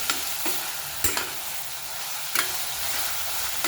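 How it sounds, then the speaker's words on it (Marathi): Ginger garlic paste sautés in masala for pav bhaji, a steady sizzle broken by a few sharp spatula scrapes and knocks against the pan, no voices. "छान असं खमंग हे आलं लसूण पेस्ट आपल्याला परतून घ्यायचं आहे मसाल्यामध्ये"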